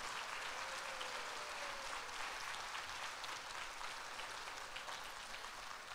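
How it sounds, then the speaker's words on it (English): Audience at a quilt awards ceremony during QuiltWeek in Paducah applauding, a dense, even wash of clapping that holds steady for several seconds, heard from a distance in a large hall. "if you would all join me in a big round of applause for Bill and Meredith Schrader"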